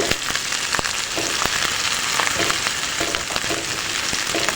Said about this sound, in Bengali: আদা রসুনের কাঁচা গন্ধটা যাতে চলে যায় একটু ভেজে নিব